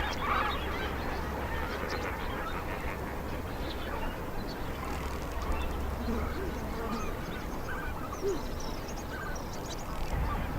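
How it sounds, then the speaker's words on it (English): A breeding colony of lesser flamingos, some 90,000 birds, honking and calling at a distance near acacia sweet thorn, a dense continuous chatter of goose-like calls with someone talking over it. "I'm trying to find a way to get closer to this breeding colony of lesser flamingos"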